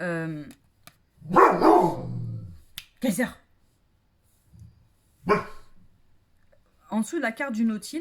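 A dog indoors lets out a burst of several loud, close barks, then a couple of shorter single woofs a few seconds apart, while someone talks before and after in French.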